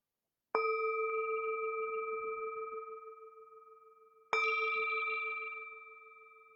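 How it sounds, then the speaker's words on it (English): A meditation bell struck twice, each strike ringing out clear and sustained before slowly fading; the second strike comes a few seconds after the first. "we'll begin and end with the sound of the bell"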